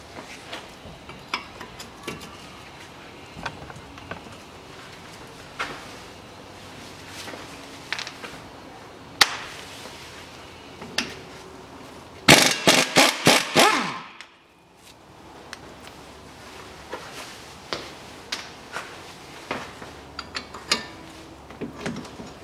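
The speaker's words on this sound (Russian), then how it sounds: "Теперь откручиваю две гайки крепления стойки." Ratchet wrench clicking as two front strut mounting nuts come off a 2001 Nissan X-Trail: sparse ticks and clacks, then a fast, loud burst of ratcheting before it drops to quiet workshop ambience.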